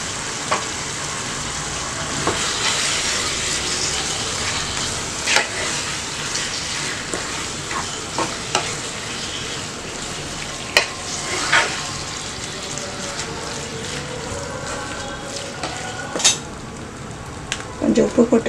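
Minced mutton biryani mixture sizzles and fries in a pan while being stirred, a continuous close crackle with scraping spoon strokes and occasional sharper clinks, no voices heard.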